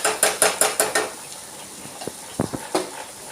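A spoon scrapes rhythmically in a pan, about five quick strokes, as potato pieces are mixed with salt, chili powder and coriander powder for a spinach and potato curry, followed by a few lighter clinks and taps.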